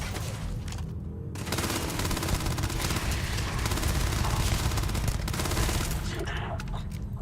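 A laser rifle fires continuously in Starfield, making a dense, loud barrage that fills the scene along with other combat noise.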